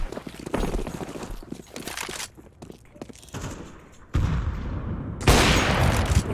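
Gunfire in Counter-Strike 2: several sharp, loud shots and bursts crack out in quick succession over rumbling game ambience, with a brief quieter stretch before louder blasts return near the end.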